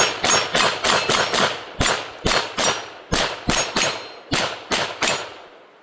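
A Taurus TX22 Gen2 .22 pistol loaded with Winchester ammunition fires about fifteen sharp, ringing shots in quick bursts, loud and close, with short pauses between groups.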